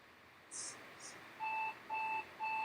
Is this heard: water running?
no